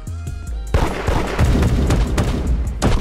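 Explosions and rapid gunfire erupt in the Roblox game Da Hood: a sudden loud blast, then dense, crackling bursts and repeated booms in close succession, with a final sharp burst near the end.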